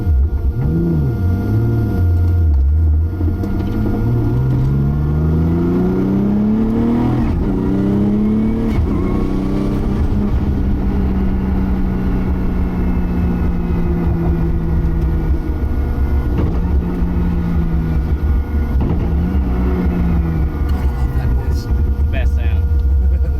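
A 1000hp widebody R33 Skyline GT-R with an RB engine and a sequential gearbox drives through heavy street traffic. The engine note is loud and rasping, climbing and dropping in pitch through repeated revs and gear changes, with a steady drone between them.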